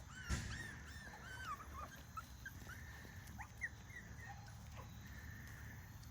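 Several puppies whimper and yip in short, high, thin cries scattered over a few seconds, close by outdoors with their mother, with soft shuffling underneath.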